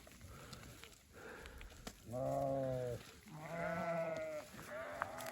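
Several sheep bleat loudly out on spring pasture while grazing, with calls coming in a series of drawn-out, wavering cries over low field noise and no talk.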